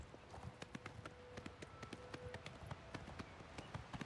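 Horse hooves galloping across open ground in the video game Oblivion Remastered, a quick, steady run of soft clip-clop thuds at moderate distance over a faint ambient bed.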